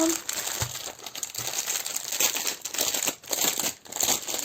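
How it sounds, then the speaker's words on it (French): Plastic packaging being torn open and handled, a dense, continuous crinkling close up with bright crackles and brief rustling bursts throughout, no talking. "On va ouvrir ce paquet là."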